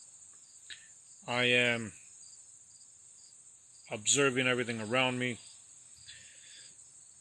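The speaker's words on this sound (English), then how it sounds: "I'm sitting out here, I'm listening to the crickets." Crickets chirp outdoors in a continuous high, steady trill under an overcast sky amid greenery. Someone speaks calmly over it.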